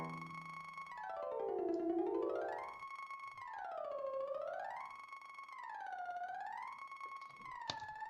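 A synthetic sonification tone tracks an object's velocity, its pitch rising as the speed increases. The pure harmonic tone glides smoothly up and down in wave-like sweeps, heard alone with a brief click near the end.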